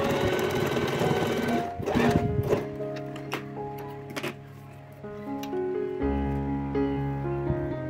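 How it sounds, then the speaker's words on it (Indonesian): Sewing machine stitching the fabric lining for a crochet wallet, running in steady mechanical bursts with brief pauses and tonal hum between runs, close and clear without talk. "Ini kita jahit dulu bagian yang kecilnya."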